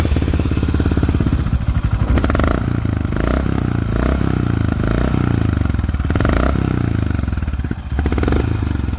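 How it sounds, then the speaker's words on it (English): A Honda H'ness motorcycle with a Red Rooster exhaust and dB killer fitted runs loud and steady with a deep, raspy exhaust note, revving up and down a few times, close by. "listen how it sounds with the DB killer"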